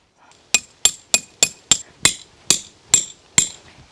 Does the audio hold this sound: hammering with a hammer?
yes